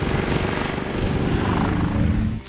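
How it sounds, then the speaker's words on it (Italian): Triumph Thunderbird Commander motorcycle exhaust, a deep, steady engine drone heard close and loud without pause, a low throbbing rumble holding constant for a couple of seconds. "Bello e profondo il rumore di scarico"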